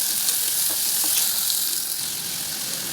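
Finely chopped large onions fry in hot oil inside a pressure cooker for a double beans gravy, giving a loud, steady sizzle with faint stirring scrapes and no talk.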